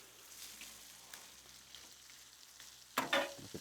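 Two blackened steaks sizzle in a pan after being flipped: a faint, steady sizzle that swells into a louder hiss and crackle near the end.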